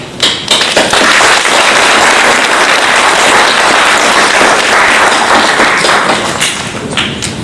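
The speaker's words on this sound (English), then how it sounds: "That applause was for your extraordinary speech." Loud, sustained audience applause after a speech, a dense roar of many hands clapping at once that holds strong for several seconds before easing near the end.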